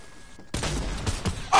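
Gunfire in the Fortnite: Battle Royale video game, a sudden burst of shots that starts partway through and continues as a rapid, fairly loud volley, with a sharper crack near the end.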